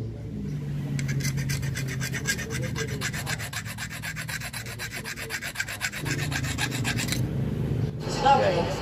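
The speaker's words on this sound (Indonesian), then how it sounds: "Ya ini bagian sudut pinggir ini juga tajam, jadi kiri kanan kita kikir semua." A hand file rasps along the sharp edges of the ports in a Yamaha RX King motorcycle engine, in rapid regular back-and-forth strokes, close and steady, with a brief pause and a clunk near the end.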